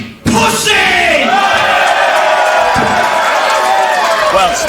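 A wrestling arena crowd in Birmingham bursts into a loud, sustained roar of shouting and jeering after a sharp start, filling the hall for several seconds, with a voice heard over the noise.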